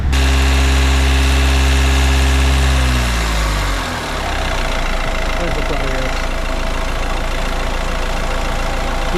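A Nissan Qashqai J11 engine runs loud and close during a forced DPF regeneration, its steady drone dropping in pitch partway through as revs fall, then settling into a rougher idle-like hum; a voice speaks over it.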